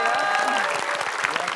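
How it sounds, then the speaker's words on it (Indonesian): Studio audience applause at a quiz game show, a dense steady clatter of clapping lasting the whole moment, with a voice talking over it. "Nih, tepuk tangan buat Bang Jelani ya."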